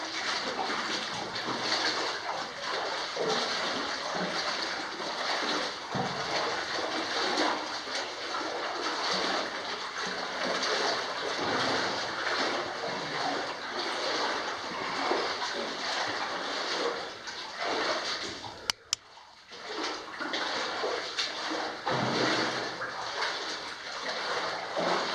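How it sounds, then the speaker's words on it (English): Steady rushing water pours continuously over a small dam's spill gate, broad and even, with faint bird calls in the background. "Kind of a dam with a little spill gate here."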